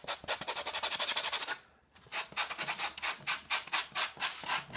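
A handmade prop with small raised bumps is sanded smooth by hand, giving quick rhythmic rasping strokes, close and clear, with a brief pause midway before the scrubbing resumes.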